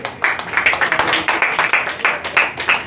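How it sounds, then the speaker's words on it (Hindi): Audience at a Delhi Idol singing contest announcement clapping together close by, a fairly loud, even patter of many hands sustained for the whole stretch. "जोरदार तालियां इसके लिए।"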